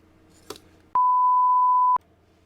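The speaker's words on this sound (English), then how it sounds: "Beep!" A single pure electronic beep sound effect rings out for about one second, loud and steady, breaking a quiet background after a short tap.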